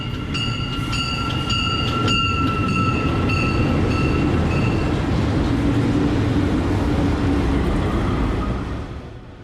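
A very long coal freight train rolls past in Colombia, with a loud continuous rumble and rattling wheels and repeated rhythmic clacks early on, steady throughout and fading slightly at the end.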